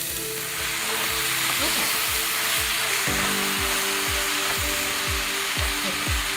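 Two pounds of ground beef frying in a hot pan, a constant loud hiss with repeated low thumps and scrapes as it is stirred. A voice speaks briefly.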